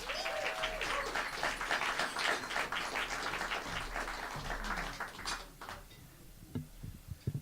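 A room of people claps for a student at a showcase event, a brisk, moderately loud round of applause that thins out and fades to a few scattered claps toward the end.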